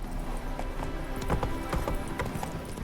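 Roach, a horse in The Witcher 3, gallops with rapid, rhythmic hoof clip-clops over a continuous game soundscape, steady and fairly close.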